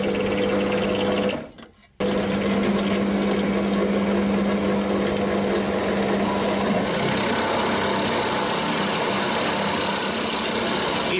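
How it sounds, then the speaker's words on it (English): A Parkside 500W bench pillar drill with a sharp bit whirs steadily as it bores through a piece of wood, its motor dipping briefly near the start and then holding a continuous high buzzing drone. "nice sharp drill bit, it has no problem cutting through a piece of wood"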